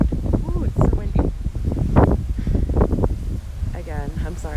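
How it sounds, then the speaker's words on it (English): Strong wind outdoors in Orlando buffets the microphone with a low, uneven rumble throughout, heard beneath a person talking continuously. "it's so windy"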